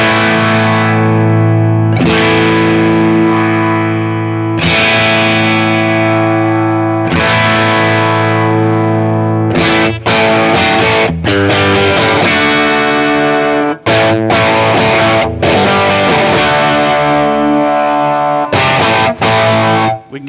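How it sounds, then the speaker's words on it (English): An electric guitar runs through a Wampler EQuator equaliser with the mids boosted for a nasal, cocked-wah tone. Loud, driven chords ring out, then choppier strummed rhythm patterns follow, with no talking. "Get that kind of cocked wah sound"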